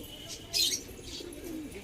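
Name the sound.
Sarangpuri pigeon cooing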